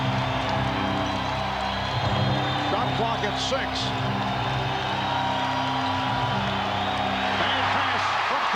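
A basketball arena crowd roars steadily for the Seattle Sonics against the Chicago Bulls at a 1997 NBA regular season game, a dense, continuous din that runs under a commentator's talk the whole time.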